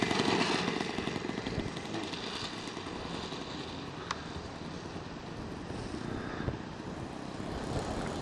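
A small propeller engine drones steadily as a model plane passes at speed, loud and buzzing throughout with a slight rise in pitch near the end.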